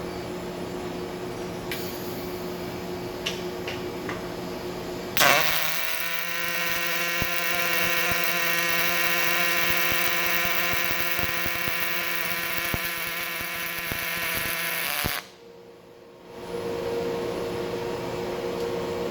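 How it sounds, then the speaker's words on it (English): An OTC Daihen FD robot arc welding: a steady buzzing crackle with a fine sputtering edge runs loud and close for about ten seconds, then cuts off abruptly, over a constant background hum. "we're going to go ahead and turn our weld on and actually weld now"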